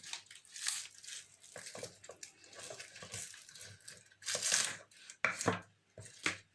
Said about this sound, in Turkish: Şimdi ben soğan doğrayacağım dediğim gibi